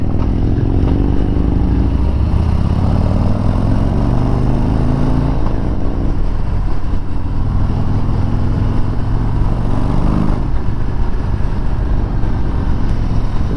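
A 2021 Harley-Davidson CVO Road Glide V-twin rumbles loud and close while riding, with engine pitch rising and falling through gear changes under steady wind noise.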